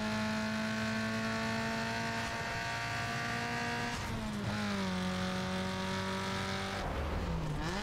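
A race car in NFS: Underground 2 with a steady, loud engine drone held at high revs, dipping briefly at two gear shifts before climbing again, with no talk.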